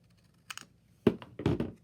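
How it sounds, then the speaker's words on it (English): Scissors cut a sheet from a 6x6 paper pad, giving a few close, crisp snips and rustles in short bursts over a quiet background. "So I'm just going to cut this"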